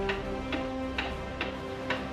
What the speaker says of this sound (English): You hear that antique clock ticking away.